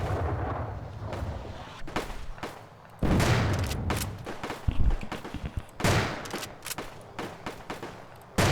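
Roblox World War 1 battle gunfire, repeated heavy booming shots and volleys at intervals over a steady rumbling background, with loud sharp blasts throughout.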